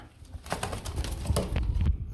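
Racing pigeons on a pigeon farm coo softly in low, throaty bursts, close by, with faint rustling and other bird sounds mixed in.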